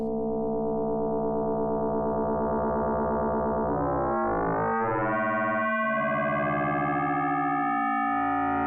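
A sustained FM synthesizer tone using a bronze algorithm with two parallel modulators, rich metallic harmonics, bending and shifting in timbre partway through, then holding a bright, buzzy chord-like pitch.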